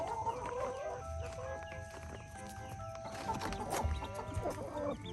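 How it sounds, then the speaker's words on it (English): A hen clucks and murmurs softly nearby in short, irregular bursts, with faint rustling and barnyard background. "We had a broody hen."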